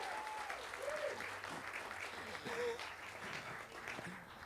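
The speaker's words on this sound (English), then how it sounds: "Big round of applause for her as well." A ceremony audience at a university construction celebration applauds a new chancellor, steady dense clapping held at an even level throughout, with a few faint voices underneath.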